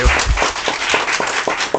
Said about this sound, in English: can we get a round of applause for John?